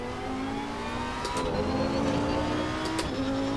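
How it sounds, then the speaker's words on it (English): A racing game car with brakes locked and ABS off skids through grass and gravel, a steady engine drone with faint tonal whine and light chattering bursts, moderately loud and free of talk. "you get that chatter as it's skidding across the grass and the gravel"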